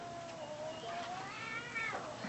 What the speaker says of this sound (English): That's the cat making all the noise, isn't it?